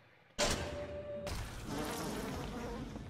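An insect swarm in BioShock bursts in suddenly and keeps buzzing as a dense, continuous hum, loud at onset then settling steadily with no talking.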